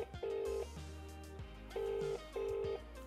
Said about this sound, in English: It's ringing. Because that's what phones do.